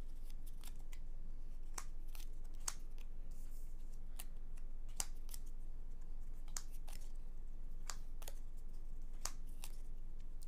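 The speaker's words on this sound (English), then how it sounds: "We draw new cards" Playing cards from the Castles of Burgundy card game are drawn and handled on a table, giving a series of sharp, quiet snaps and flicks at irregular intervals over a faint hiss.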